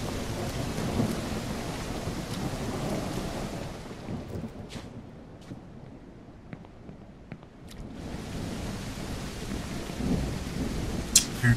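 Rain and thunder from a stormy night in the zombie survival game No One Survived, a heavy continuous rumble and downpour that eases in the middle before swelling back.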